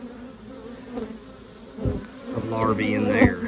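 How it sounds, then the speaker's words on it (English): Forager honey bees buzz steadily around an open hive, a close, continuous insect drone under someone speaking quietly, with individual bees flying past near the end. "I've got forager bees bringing in stuff there"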